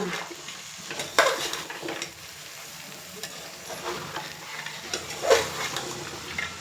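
Vegetables and soaked green peas stir-fried in a pan for veg pulao, a steady close sizzle with scraping stirs and occasional clinks of a spoon against the metal.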